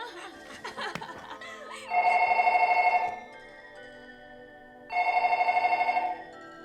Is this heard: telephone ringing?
yes